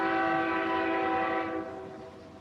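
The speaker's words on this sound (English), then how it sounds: "oh, that train." Train rolling past while sounding its horn, a loud sustained multi-tone blare that holds, then fades away as the rumble of the cars continues underneath.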